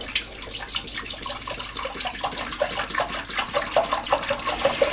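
Cleaning fluid pours into a bicycle chain cleaning unit, a steady splashing, gurgling liquid stream close by that grows slightly louder and more bubbly as the reservoir fills.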